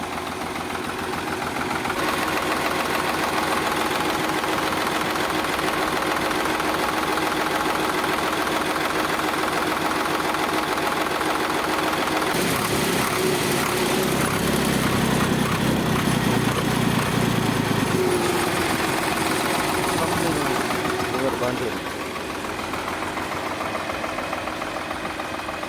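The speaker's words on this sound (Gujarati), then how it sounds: "નંબર 1 ઉપર સ્વરાજ ટ્રેક્ટર છે, મોડલ 2000નું છે અને ટ્રેક્ટર ખૂબ સારું છે" Engine of a 2000-model Swaraj tractor, its radiator and engine recently renewed, runs steadily throughout with a continuous chugging drone; a deeper rumble rises in the middle, then the sound drops slightly toward the end.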